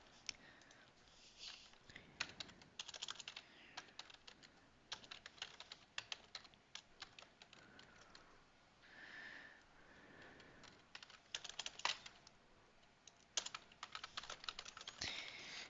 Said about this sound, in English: I'm working on a new laptop, so I feel like I'm typing a little slow